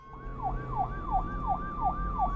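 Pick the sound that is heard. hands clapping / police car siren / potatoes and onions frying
police car siren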